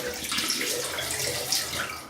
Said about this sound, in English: I'll just put some water in the knot